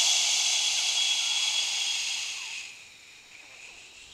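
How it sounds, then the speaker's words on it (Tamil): A single forceful hissing exhale like a pressure cooker whistle during a breathing exercise, loud and steady at first, then tapering off into quiet breathy air. "நல்ல மூச்சை இழுத்து அந்த சவுண்டு, நம்ம குக்கர் விசில் அடிக்கிற மாதிரி ஒரு சவுண்டோட மூச்சை வெளியில் விடணும்"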